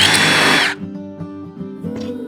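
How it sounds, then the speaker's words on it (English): A power drill whirs loudly and close as it bores a hole through a door hinge jig template, then cuts off abruptly and leaves a quieter hum. "Drill a hole."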